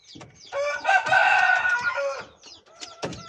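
A poultry farm flock of hens gives one loud, drawn-out crow-like call near the mic, followed by scattered softer clucks.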